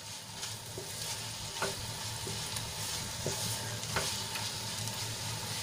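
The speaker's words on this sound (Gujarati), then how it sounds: "મસાલો સરસ રીતે મિક્સ કરીને આપણે બેથી ત્રણ મિનિટ સુધી અને ફરીથી આપણે ચડવા દઈશું" Okra cooked with a peanut and sesame masala being stirred in a pan, with soft spatula scrapes and a few sharp clicks over a continuous low frying sizzle, close and alone.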